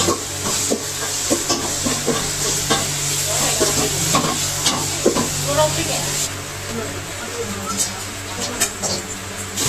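Ginger garlic paste fries with softened onions in a pan for a chicken biryani, giving a steady close sizzle with scraping stirs throughout, while a person talks over it.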